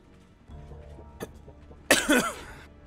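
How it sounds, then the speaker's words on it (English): A single sharp cough bursts out close to the microphone, a brief harsh hack with a rough tail, preceded by quieter room sound and a small earlier throat noise. "Also, sorry for coughing right there"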